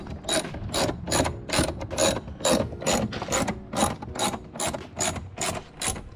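A hand ratchet backs T25 fasteners out of a car's air box in a quick rhythmic series of about a dozen crisp clicking bursts, close and clear, with no talking.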